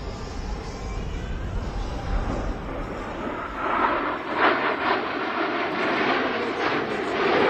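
Aerobatic jet team in diamond formation accelerating in a descent at an air show, a loud continuous roaring rumble that builds in brightness and hiss toward the end, heard from the crowd at a distance.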